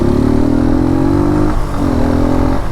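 A Suzuki GSX-R motorcycle being ridden hums with a loud, close, steady engine drone that dips briefly midway as the revs shift, then holds its pitch again, with no voices.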